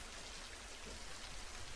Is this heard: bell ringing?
no